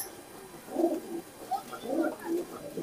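A Khulna chot pigeon coos close by in soft, low, throaty bursts. A few separate phrases come one after another over a quiet background.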